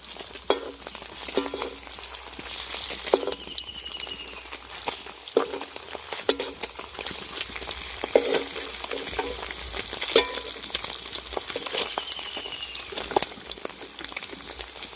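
Paneer pieces fry in oil for a Bengali niramish paneer posto, a continuous soft crackling sizzle with faint stirring and scraping in the pan, no voices.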